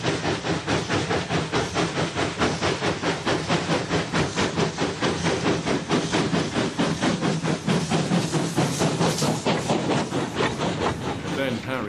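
A steam locomotive hauling a coal train chuffs hard and rhythmically with hissing exhaust beats, loud and close, steadily laboring as it pulls away, with a banking engine at the rear.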